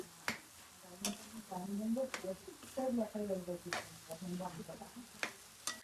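Cooked rice being stirred and mixed for egg rice, with sharp scraping clicks of the spoon against the pan every second or so, under a sizzling background and a voice in between.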